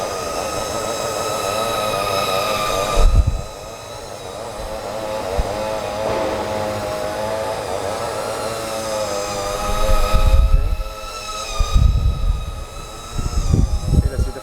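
A Flywoo Firefly 1S V2 micro drone buzzes with a steady, high-pitched whine from its 40mm propellers. The whine wavers as it flies near, with some thumps and handling noises along the way.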